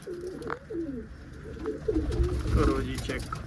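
Soft, throaty coos from a female pigeon of a breeding pair repeat in short phrases, close by, with some background rustling and faint noise.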